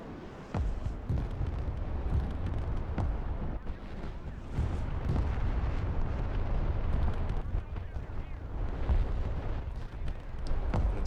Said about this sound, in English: Put a couple of top attack missiles downrange at that B-15.